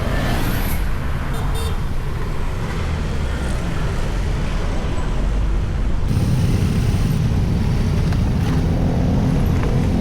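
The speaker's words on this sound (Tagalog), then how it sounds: "So grabe traffic dito sa Tansa." Heavy road traffic in Tansa, a steady roar of cars, trucks and buses passing close by and swelling louder toward the end, with no voices.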